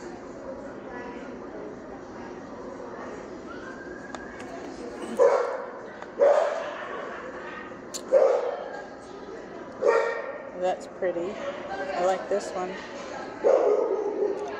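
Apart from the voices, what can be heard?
dog barking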